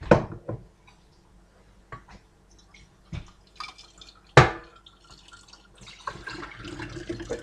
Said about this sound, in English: I'm just going to drain out the juice into my bottles, which I'm doing over the sink